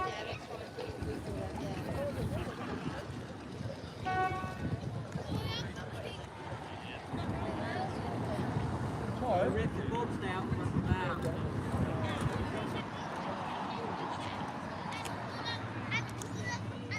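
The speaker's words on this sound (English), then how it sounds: "Got their engine going." Boats running under engine produce a continuous low rumble beneath wind buffeting and ongoing talk, with a brief tonal blip early on.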